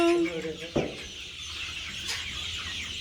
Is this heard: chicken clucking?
yes